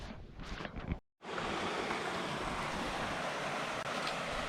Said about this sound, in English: We hear water.